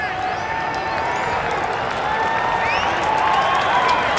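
A large crowd at a 1987 Syracuse versus Johns Hopkins lacrosse game in the Dome keeps up a broad, steady roar of applause and cheering, filling the space with a continuous wash of sound and a few whistles above it.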